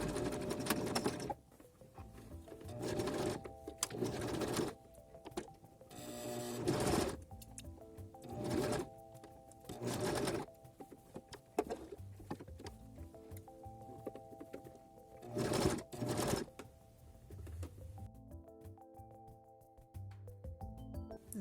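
A sewing machine runs in uneven bursts while stitching a fabric mask, whirring for a second or so at a time between pauses and softer handling noises, heard close up.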